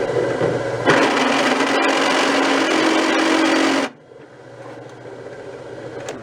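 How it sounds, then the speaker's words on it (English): A drill press bores into a snare drum throwoff adapter plate, its motor whining loudly and steadily for about three seconds before cutting off abruptly and leaving a quieter hum. "I have the convenience of using a drill press"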